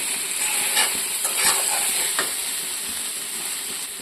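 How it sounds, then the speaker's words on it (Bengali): Potatoes and chicken with spices sizzle in a pan for a home-style chicken curry, a constant hissing fry broken by a few scraping stirs of a spoon, close and unaccompanied by speech. "ভাজা হয়ে গেছে মশলার সাথে আলু মাংস"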